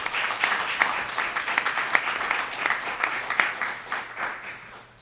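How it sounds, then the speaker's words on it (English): Audience applause for veterans at a Veterans Day ceremony, many hands clapping in a lively, uneven rhythm for several seconds, moderately loud in a room, tapering slightly toward the end. "please give them a round of applause because they deserve it"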